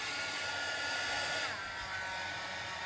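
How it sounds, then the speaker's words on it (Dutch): A hair dryer blows steadily at close range while drying a stamped card background in a craft session, giving a loud, even rushing hiss throughout. "Even de föhn iets harder."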